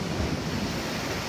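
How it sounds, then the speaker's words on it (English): Ocean waves break against sea cliffs near Sydney, Australia at sunset, a steady broadband wash of surf with wind buffeting the microphone, continuous and fairly loud with no voices. "A few waves breaking over this here."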